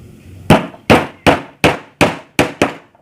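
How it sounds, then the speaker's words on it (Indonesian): Seven sharp hammer blows in steady rhythm drive nails through plastic electrical cable clamps, each strike loud and close with a ringing metallic edge and quick decay, with no talking. "kita ini dipaku ya pakai klem biasa teman-teman ya"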